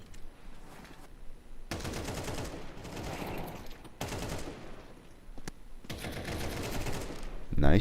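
Rapid bursts of automatic gunfire crackle through a LAN playoff esports match in a tactical shooter, several sustained volleys separated by short gaps, fairly close and loud with speech mixed in.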